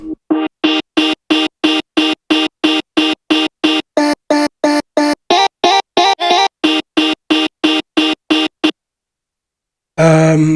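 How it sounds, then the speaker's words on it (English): Chopped vocal sample in a happy hardcore track repeated in rapid, evenly spaced stutters, loud and dry, followed by a short pause and a new burst. "a chopped version of the vocal here"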